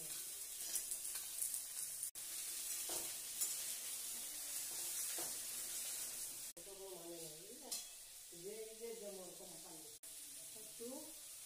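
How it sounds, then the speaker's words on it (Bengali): Eggplant pieces sizzle steadily in hot oil in a pan after potatoes have been fried, with occasional stirring scrapes over the constant frying hiss. Someone talks over the cooking in the second half. "এবার বেগুনগুলা ছেড়ে দিচ্ছি। ভালো করে নাড়াচাড়া করে বেগুনগুলোকে ভাজতে হবে।"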